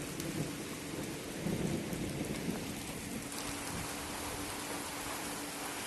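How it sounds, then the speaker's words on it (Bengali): A monsoon thunderstorm over a rooftop: continuous rainfall hisses throughout while low thunder rumbles roll beneath it, strongest in the first half, then easing into a steady downpour. "প্রচণ্ড ঝড় বৃষ্টি আসছে।"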